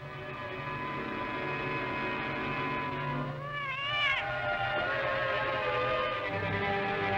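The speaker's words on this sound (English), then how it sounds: "Please take the cat with you." A cat meows over a steady hum and background music in an old 1962 gothic horror film scene, its rising and falling cry rather faint and brief within the mix.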